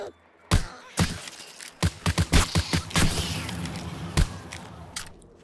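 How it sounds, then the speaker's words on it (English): Gunfire in the game 7 Days to Die: a series of sharp, loud shots, some spaced and some in quick bursts, each with a brief echoing tail over quiet background. "We're just gonna have to shoot."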